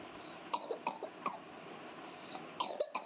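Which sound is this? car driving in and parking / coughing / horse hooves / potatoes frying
coughing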